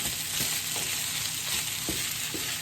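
Bacon bits stirred into browning butter in a pan, a steady close sizzle and frying hiss with a few soft utensil scrapes, no voices.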